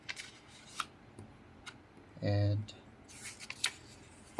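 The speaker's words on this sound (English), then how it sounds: "Carefully fold the paper, the white paper that you have right there" Sheets of white paper are folded by hand, giving soft, sparse rustles and crisp creases. A brief tonal hum cuts in midway, and a person speaks quietly now and then.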